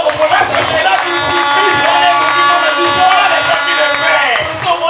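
A church congregation acclaims the Lord with loud, continuous cheering, shouting and clapping, the crowd noise sustained and close throughout.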